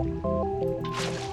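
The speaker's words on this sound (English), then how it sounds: "Placing down the water to clear the grass." Short liquid squishing and dripping as water is placed on grass to clear it in Minecraft, laid over a bright looping game melody.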